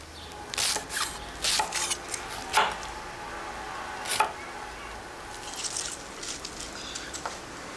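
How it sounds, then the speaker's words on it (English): A knife cuts a vegetable into thin slices on a board in an Italian kitchen, giving a string of short, crisp taps with pauses between, some grouped in quick bursts, over quiet room noise. "Remove the top third, cut them up into thin slices."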